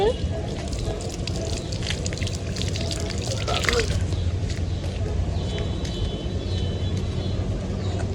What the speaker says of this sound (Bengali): বৃষ্টি হচ্ছে তো গাছে দুই দিন পানি দেওয়া লাগবে বৃষ্টি হচ্ছে